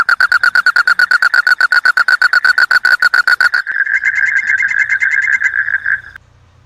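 A golden poison frog, Phyllobates terribilis, calls loud and close in a rapid pulsed trill of evenly spaced notes, which then merges into a steadier buzzing trill before it stops abruptly.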